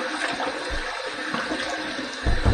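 Tap water running at a bathroom sink for wetting the face before a shave: a steady close hiss and splash, swelling louder near the end, with no voices.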